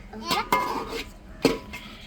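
A metal ladle clanks and scrapes inside a pot as tapioca biryani is stirred, giving a few sharp knocks and scrapes over a short stretch, with faint voices in the background.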